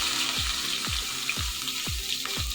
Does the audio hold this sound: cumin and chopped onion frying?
yes